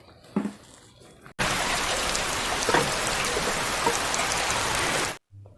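Heavy rain pours down at night, a dense, steady hiss that cuts in abruptly, holds at full strength for about four seconds and then stops just as suddenly.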